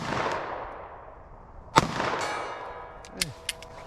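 A 9mm short-barrel pistol fires one sharp, loud shot outdoors, followed by a trailing echo and then two smaller cracks.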